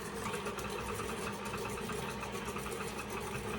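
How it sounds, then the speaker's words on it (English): An electric mixer running on low speed while stirring flour into frosted oatmeal cookie dough, a steady, close mechanical whir and buzz throughout with no talking. "with our mixer down on low, we're gonna go ahead and just slowly stir in our flour mixture."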